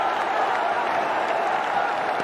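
A cricket stadium crowd applauds a batsman's fifty in a Bangladesh versus New Zealand one-day international, a dense, steady wash of clapping and crowd noise held throughout at a moderate level.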